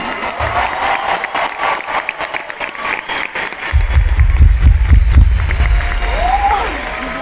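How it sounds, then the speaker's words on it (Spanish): A large concert crowd applauds and cheers at the Auditorio Nacional, a dense sustained clapping that swells louder in the second half with some shouts mixed in. "Dani, tenemos un fuerte aplauso para Dani Salinas."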